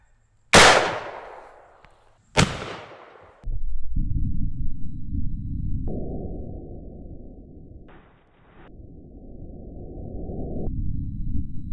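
Two sharp, loud shots from a Winchester 53 rifle in 25-20 WCF firing 60 grain bullets, each a sudden crack with a decaying tail, followed by a steady low rumbling hum.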